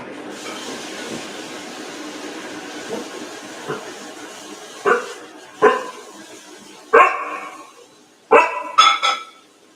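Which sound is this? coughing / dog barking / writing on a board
dog barking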